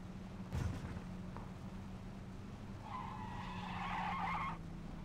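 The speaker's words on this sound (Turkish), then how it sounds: "Önümüzde araba sesi var." A car in the video game PUBG drives steadily on the desert map with a low engine hum, then tires screech in a long, bright skid near the end, fairly quiet overall.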